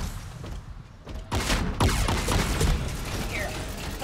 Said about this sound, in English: Just shoot at him.